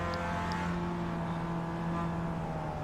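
A Mazda MX-5 Cup race car in iRacing, lapping Tsukuba Circuit, gives a loud, steady engine drone with its pitch stepping as it changes gear approaching a corner, close and continuous, with no voices.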